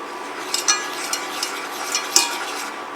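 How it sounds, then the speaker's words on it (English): Flour cooked in a pan over medium heat, a soft steady sizzle with light scraping stirs and occasional utensil clicks against the pan, close up and alone. "we're just wanting to cook that flour"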